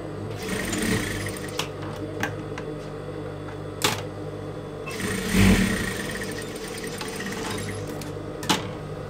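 A sewing machine attaches the hood to a small kimono-style djellaba, running in a steady rapid whir with occasional sharp clicks and thumps, close and alone without voices.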